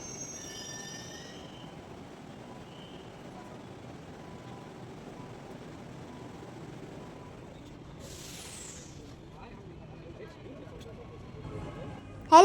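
A Delhi metro train pulls in: a low, faint rolling rumble runs throughout, with a brief high wheel squeal near the end and voices nearby.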